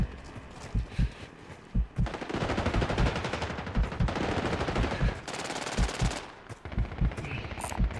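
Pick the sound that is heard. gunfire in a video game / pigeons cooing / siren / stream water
gunfire in a video game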